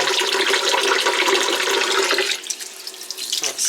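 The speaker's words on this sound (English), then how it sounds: "So I'm just going to put some more cold water in here." Cold filtered well water runs steadily from a separate tap into a container while butter is being made, a continuous close splashing rush that eases and turns more gurgling toward the end.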